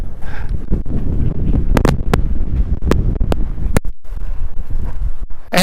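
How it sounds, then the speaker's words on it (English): Strong desert wind buffets the microphone outdoors, a loud continuous rumbling roar with rustling gusts and a few sharp bursts, no talking. "the wind just blew it off my head. This is the kind of wind we're having out here"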